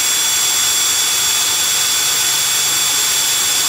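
A MEKIBOR 800NM cordless impact wrench runs at first speed with a continuous high-pitched motor whine, steady and close with no pauses.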